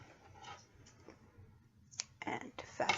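A few sharp snips and clicks of scissors cutting yarn near the end of crocheting a beanie, preceded by quiet rustling and a low hum.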